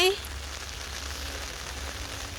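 Steady rain patters on a surface, a continuous close hiss with a low rumble underneath and no talking.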